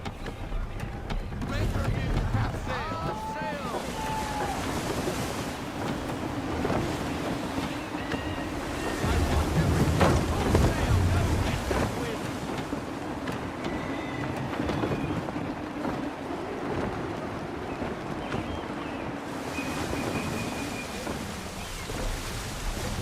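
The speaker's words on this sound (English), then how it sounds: "Gusty winds can be difficult to manage." Gusty wind and steady surf roll around a sailing ship in the video game Assassin's Creed 3, a continuous rushing wash with some swells, while a voice talks over it.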